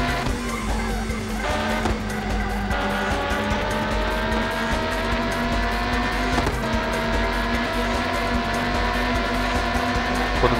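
A prototype race car engine in the PS1 game Le Mans 24 Hours drones loud and constant, its pitch climbing through gears with brief shifts and faint tire noise, steady throughout.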